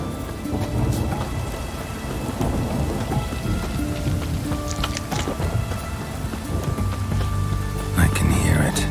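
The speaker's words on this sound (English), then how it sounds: "A storm, damn it." Heavy rain pours steadily in Witcher 3 while thunder rumbles low and continuous, swelling into a louder crack near the end, with a voice speaking briefly over the storm.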